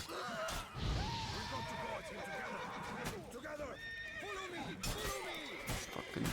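A horse in The Witcher 3 video game neighs and whinnies several times in quick, wavering bursts, mixed with hoof clatter and sharp impact sounds from the game. A player's voice speaks over the action.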